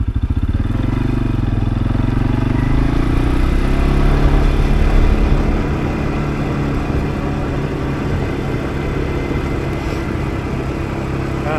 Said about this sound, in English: Put it in high gear so we don't have to listen to it rev so much.